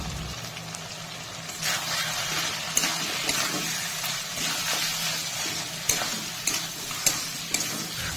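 Chicken skin coated in cumin, coriander and Kashmiri chilli powders being stirred in a hot pan, with a steady sizzle and repeated scraping strokes of a spatula, close and continuous, with a few sharper clinks.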